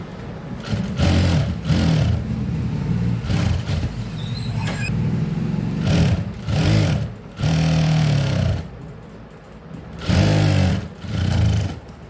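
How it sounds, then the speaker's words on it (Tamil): A sewing machine stitches a blouse in close, loud bursts of whirring that stop and start unevenly. "நான் வந்து தையல் போட்டு வச்சுக்கோங்க."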